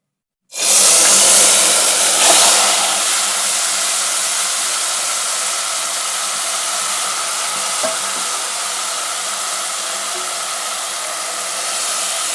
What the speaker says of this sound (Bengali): মাংসটা মেখে রেখেছিলাম এখন ছেড়ে দিই